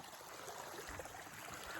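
Rainwater seeping out of a saturated field embankment and trickling away, a soft steady stream of flowing water, close and continuous, with no voices.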